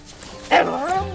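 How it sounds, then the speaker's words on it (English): Short yelp and whimper from a blue heeler mutt dog in the open world of the Far Cry 5 video game, a single close, bright vocal burst over quiet game ambience. "Cute dog."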